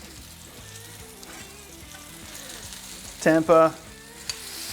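Balls of beef mince for a double smashburger sizzle steadily on a hot griddle, a continuous frying hiss with a brief burst of louder activity partway through.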